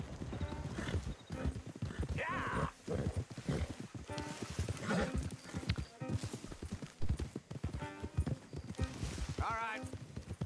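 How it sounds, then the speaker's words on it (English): Horses' hooves clop in a steady walking rhythm in Red Dead Redemption 2, with an occasional whinny, while characters talk over the hoofbeats. "Don't want the horses clopping around outside the window."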